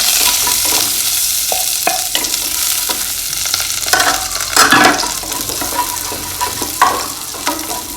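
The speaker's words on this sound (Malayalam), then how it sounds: "കുറച്ച് ബദാം ഉള്ളത് ഇട്ടെടുത്തൊന്ന് വഴറ്റി കൊടുക്കാം." Almonds sauté in hot oil, a loud, close and continuous sizzle with occasional scrapes and clinks of a stirring utensil against the pan.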